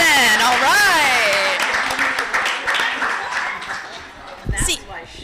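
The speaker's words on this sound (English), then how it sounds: "Round of applause for solutions in action." An audience at a police civilian review commission summit claps as a voice talks over it at first, the applause thinning out toward the end before a short loud thump.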